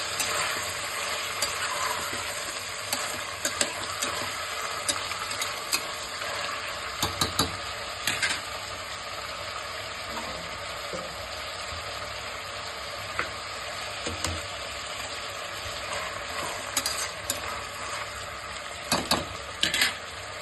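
Steady frying sizzle of a dry fish and brinjal curry in a pan, with scattered scrapes and clinks of stirring over the constant hiss, no talking.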